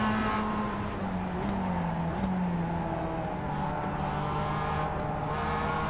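A Mazda MX-5 race car in the iRacing game drones steadily, its engine pitch dipping and rising through a corner, a continuous close, loud in-car roar with no talk.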